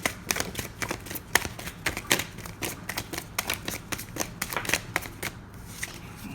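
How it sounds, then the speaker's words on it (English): Tarot cards being shuffled close up, rapid crisp riffling bursts in an uneven rhythm. "So that's what I'm going to shuffle for you now."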